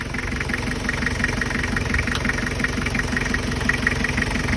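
Old Toyota Mighty-X pickup engine idling smoothly, an even low rumble with a regular mechanical pulse, heard close and steady throughout with no voices.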